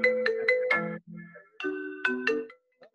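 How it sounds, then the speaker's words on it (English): A phone plays a melodic ringtone-style notification with a run of bright electronic notes, a brief pause, then another phrase of chiming tones, clear and close with no talking over it. "That's something from my phone coming in here."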